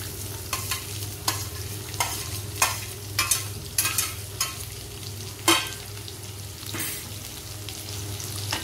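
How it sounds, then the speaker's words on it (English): Roughly chopped onions fry in a pan over a low steady hum, with a series of sharp spatula scrapes and clacks as they are stirred, close and without talk. "we shall put in 2 onions which are roughly chopped"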